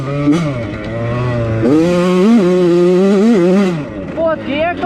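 A Yamaha YZ85 dirt bike engine runs loud and close in fourth gear, its pitch rising and falling as the rider works the throttle.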